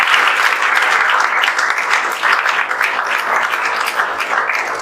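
An audience at a JEE Main results celebration in a coaching-class setting breaks into loud, dense applause, a sustained roar of many hands clapping close by throughout, with no talk over it.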